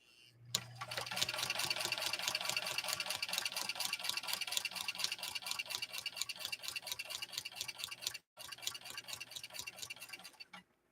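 A Singer Centennial Class 15 sewing machine with an oscillating hook runs at a steady pace, giving a fast, even ticking stitch rhythm. The sound is close and fairly quiet, with a brief pause near the end before it starts again.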